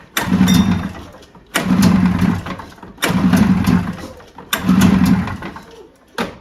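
A 1986 Arctic Cat El Tigre 6000 snowmobile engine pops and catches in four loud, close bursts. Each lasts about a second before dying away, with short pauses between the tries.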